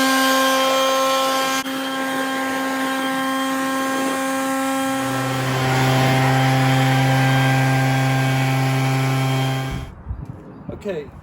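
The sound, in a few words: big leaf blower drying a washed truck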